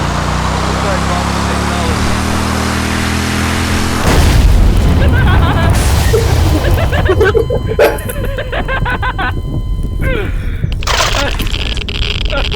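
A lawnmower rigged as a suicide bomb explodes with a loud, broad boom at about four seconds. Crackling debris and a rumbling roar follow, with voices faintly underneath.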